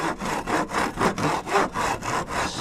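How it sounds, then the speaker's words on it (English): A small hand saw cuts through spruce wood in quick, regular back-and-forth strokes, roughly eight rasping passes close up, each a scratchy rub that rises and falls evenly, with no voices. "This is a pretty good little saw."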